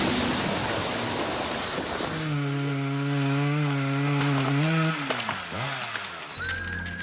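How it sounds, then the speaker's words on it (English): A turbocharged 5-litre V10 diesel engine in a 2003 VW Touareg revs loudly and close after a stretch of broadband rumble, its droning note holding steady, then rising and falling through several swells. "this is no ordinary diesel engine. It's huge. A turbocharged 5-litre V10."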